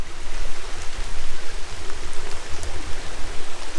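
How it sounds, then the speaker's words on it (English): Steady rain falls at a hammock campsite in the Red River Gorge, a dense, even hiss that stays continuous and fairly loud throughout, with no other sounds over it. "Yeah, still raining."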